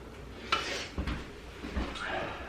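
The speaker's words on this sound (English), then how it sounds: "Give it a little stir." A spoon stirs hot Panda-style orange sauce in a pan, making a few scattered clinks and scrapes against the metal at a close, moderate level without any voices.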